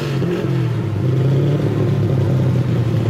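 A twin-turbocharged 5.7-liter V8 gasoline engine rated at 1,100 horsepower revs steadily and loudly, a deep continuous droning roar with a faint clatter, with no talk over it.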